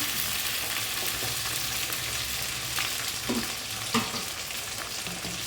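Seasoning spices crackle and sizzle in hot oil for a village-style tomato egg curry, a dense, continuous frying hiss with a few light stirring knocks.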